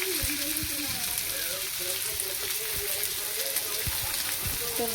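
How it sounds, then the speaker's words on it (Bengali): Vegetables fry in a pan, a steady close sizzle and crackle running throughout, with a voice speaking over it. "সবজিটা একটু ভেজে নিয়েছি ভালো করে।"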